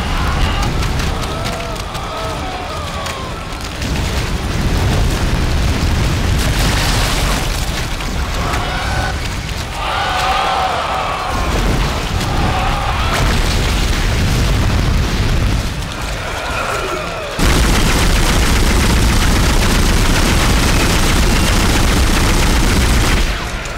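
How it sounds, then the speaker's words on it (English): Enemy gunfire aimed at the player in the video game Dead Space, a loud, sustained barrage of booms and bursts with dense noisy texture throughout, intensifying near the end. "Yo, they're all shooting me!"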